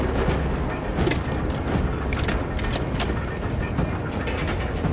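An elevator in Warhammer 40000 Space Marine 2 arrives with a dense, loud mechanical grinding and rumble, as gears and ratcheting clanks churn steadily throughout.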